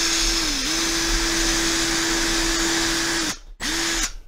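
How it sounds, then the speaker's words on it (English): Power drill fitted with a 5/16 inch bit boring a hole in a case, a loud steady whine that dips briefly near the start, runs evenly, then stops, pauses for a moment and spins up once more before cutting off. "I'm going to bring the 5/16th bit out again, and I'm going to drill a hole on the left-hand side"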